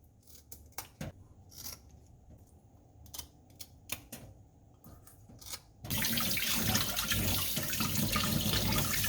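Kitchen scissors snip off rockfish fins for a spicy fish stew, giving a series of sharp close cuts, followed by a steady rush of running tap water.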